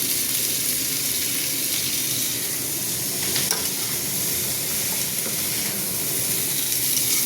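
Chili powder goes into a hot pan of sizzling oil, a loud continuous frying hiss with faint stirring scrapes over it, steady and close throughout without speech.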